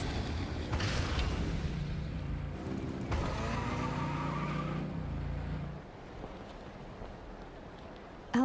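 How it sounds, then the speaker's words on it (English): Engines rev and tires skid in Genshin Impact, a loud continuous motor roar with sliding tire noise that drops off toward the end. "Rev the engines!"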